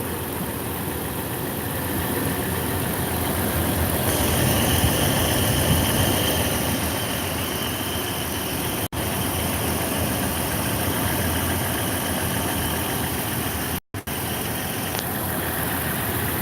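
A 2013 Toyota FJ Cruiser with about 50,000 miles idles steadily with its hood open, a constant mid-range engine hum with no speech and two brief dropouts.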